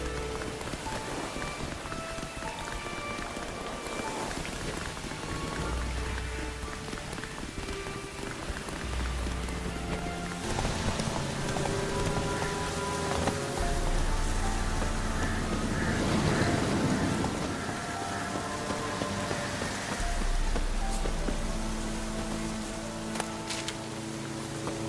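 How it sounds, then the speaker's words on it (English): Steady rain hisses across the soundscape of The Witcher 3: Wild Hunt, a continuous wash of falling drops mixed with low tonal game ambience and music throughout. "Looks like rain."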